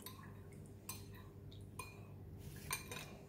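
A spoon stirring an oyster sauce and salted black bean paste mixture in a bowl, soft clinks and taps against the dish scattered over a quiet room hum.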